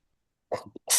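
One sudden, sharp human sneeze at a town hall meeting, with a quick intake before the loud, close burst and silence beforehand.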